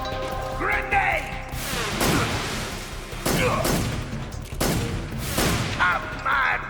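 A grenade blast in Metal Gear Solid 3 among several heavy, crashing booms spaced a second or so apart, close and loud, with a voice shouting between them.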